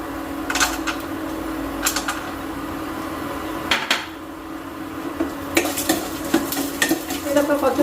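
Cashew nuts fry in a pan with a steady soft sizzle, while a utensil stirs them and scrapes and clinks against the metal at irregular intervals, heard close.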